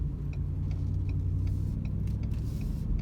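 A 7.3 V8 truck pulls onto an interstate highway with a steady, continuous engine and road rumble and faint ticking, with no one speaking.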